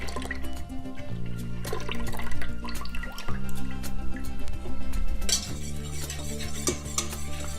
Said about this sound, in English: I'm going to add the amount of milk that I want. So this is the rest of that 1/2 gallon milk.